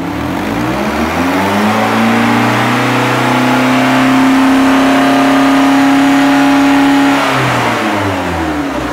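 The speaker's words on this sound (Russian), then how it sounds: "Работа двигателя на высоких оборотах." A Mercedes-Benz car engine with 434,771 km on it revs up loudly nearby, holds a steady high-pitched roar for several seconds, then winds back down to idle.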